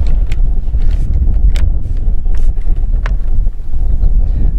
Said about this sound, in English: The wind was gusty